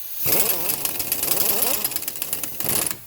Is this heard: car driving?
no